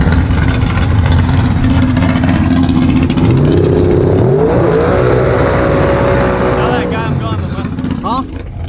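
A loud turbocharged Mustang drag race engine with a TH400 transmission roars and revs at the track, pitch climbing through several gear shifts, steady and close throughout.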